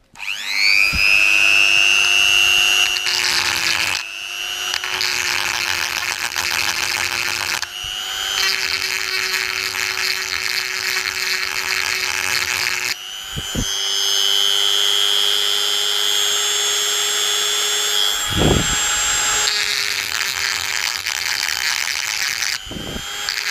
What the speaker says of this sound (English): let me just quickly Dremel this